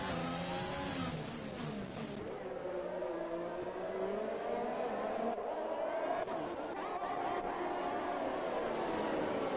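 Formula 1 race cars in a racing video game at the Singapore circuit whine through their gears, engine pitch rising and falling steadily over roughly ten seconds, with commentary talking over the top.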